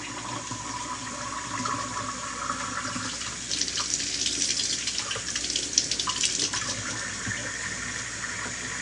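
Tap water runs steadily into a sink during washing, a continuous splashing gush with brief clinks and splatters as something is rinsed under the stream.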